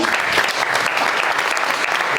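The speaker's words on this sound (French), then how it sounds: "je vous propose d'applaudir les grands" Steady, dense applause from a large audience at a French-language question-and-answer session, loud and unbroken throughout with no voices rising above the clapping.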